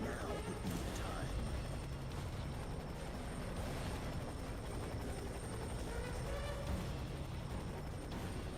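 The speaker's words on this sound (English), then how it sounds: "Chopper Echo 2-4 is right on top of you." A helicopter hovers right overhead in a video game, its rotor noise a constant, dense droning wash that persists without break, with faint game sounds and voices mixed in beneath.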